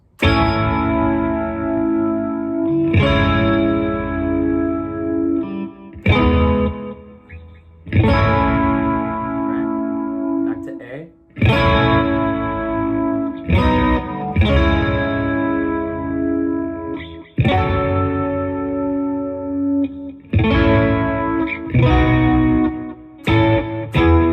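Distorted electric guitar strums the chorus chords of a song through heavy effects and chorus, loud and full, in repeated phrases with brief gaps between them.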